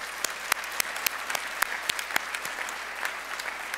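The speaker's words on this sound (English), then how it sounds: "Give yourselves a round of applause." Graduates applaud at a 2014 fall commencement ceremony, a steady dense clapping from a crowd, moderately loud with sharper individual claps standing out.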